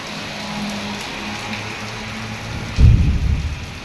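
Heavy rain pours steadily outside a shop where a parked motorbike is getting soaked, and a loud, deep rumble of thunder breaks in near the end over the constant hiss of the downpour.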